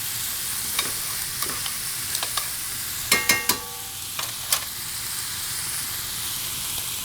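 Tomato paste toasting in a pan with onions and celery: a continuous hissing sizzle punctuated by sharp clicks and taps of a utensil stirring and scraping, close and fairly quiet, with no voices.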